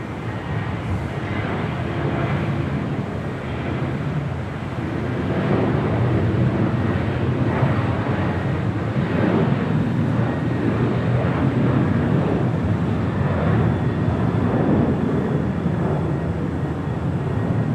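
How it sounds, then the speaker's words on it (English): An Alaska Airlines Boeing 737-800 departing runway 25 right at Los Angeles International Airport gives a continuous broadband jet roar heard from a distance, swelling slightly and holding steady throughout, with wind buffeting the microphone. "Next departure on 25 right here on the south side. Alaska Airlines flight 1430 heading to Puerto Vallarta."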